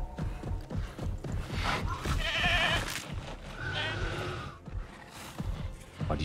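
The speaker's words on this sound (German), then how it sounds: "Und jetzt ist er gerade auf der Jagd nach einer Ziege." A goat hunted by a dinosaur in Jurassic World Evolution 2 bleats in several loud, strained cries amid game noise and thumping movement, with a voice talking over parts of it.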